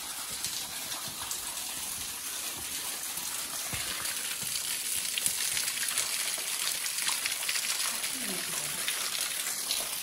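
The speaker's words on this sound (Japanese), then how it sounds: "滝音がすごいけどどこだ。" A waterfall at a shrine pours in a steady, hissing rush that echoes around the site, with faint voices and small noises now and then beneath the constant water.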